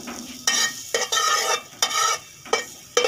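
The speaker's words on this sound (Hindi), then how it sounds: "थोड़ा सा आप बर्तन में घी डाल लें और उसमें लहसुन जो बारीक किया हुआ था" Finely minced garlic sizzles in ghee in a cooking pot as a spoon stirs it. Short scraping strokes repeat in bursts over a continuous crackle of frying, close and fairly loud, with no talking.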